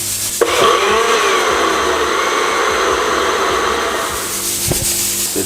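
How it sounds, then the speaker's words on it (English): A kitchen blender whirs steadily through coconut flakes and a small splash of water, a loud continuous grinding roar that runs from start to finish with a brief shift near the end. "We're gonna give it a second blend with a little bit of water, not a lot."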